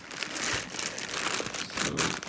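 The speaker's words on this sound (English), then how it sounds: "the thing I'm going to put in are my shoes in the plastic bag" Shoes in a plastic bag being packed into an overnight bag, the plastic crinkling and rustling close up in a continuous run of crackles for a couple of seconds.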